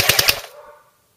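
Short full-auto burst from a licensed airsoft FAMAS rifle, three rapid evenly spaced shots at about ten per second, close and loud, then a quick fade into silence.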